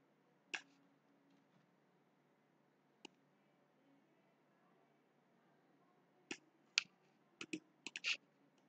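Computer mouse clicks while designing a logo, sparse sharp single clicks in a quiet room, one near the start, one a few seconds later, then a quick cluster of several clicks toward the end.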